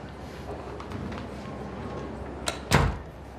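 A door shuts with a short click followed by a firm thud, close by, against a steady room hum with a faint voice earlier.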